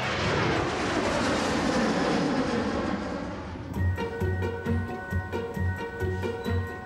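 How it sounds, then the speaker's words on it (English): A 70-tonne jet airliner rumbles loudly past at an airport in a broad, roaring wash that fades, and then gives way to a rhythmic, pulsing mechanical pattern. "having 70 tonnes of jet rumbling your way can be a bit off-putting"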